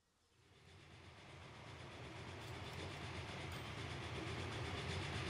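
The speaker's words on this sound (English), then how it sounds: "Oh, that's a passenger train." A passenger train in the railway simulation game Transport Fever rolls past, a steady rumble with faint clickety-clack that swells from quiet to a sustained loud roar.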